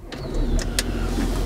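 A used Audi's engine is brought to life with the keyless start button while the brake is pressed, giving a quick crank and settling into a steady low idle, with outdoor birds cooing faintly nearby.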